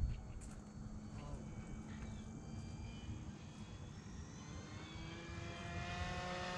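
An upgraded Arrows Husky RC plane runs at full throttle, its small propeller motor buzzing steadily at moderate distance and rising slightly in pitch as it speeds away, with faint outdoor background noise.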